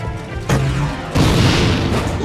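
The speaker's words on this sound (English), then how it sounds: "Try selecting the gravity bomb and using it." Gravity bomb explosions in a Ratchet and Clank game: two heavy booming blasts about half a second apart, each with a deep rumbling body and a noisy, crackling tail.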